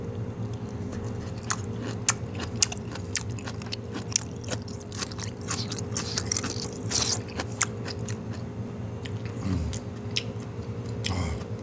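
Someone chews close up on a seasoned daylily side dish, made from daylily blanched and then soaked in salt water for over a day. Soft crunches and wet bites repeat irregularly, with no talking.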